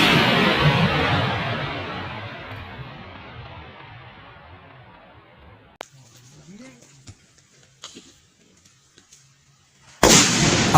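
A firecracker bomb packed inside a Coca-Cola tin for Vishu bursts with a loud roaring blast that fades slowly over several seconds, then a few faint knocks, and a second sharp loud burst cuts in at the end.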